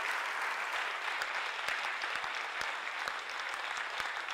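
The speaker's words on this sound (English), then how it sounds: "So we can clap for that as well." Audience applause at a school talk event for seniors, steady dense clapping from a crowd at moderate distance, continuous throughout with a few sharper individual claps standing out.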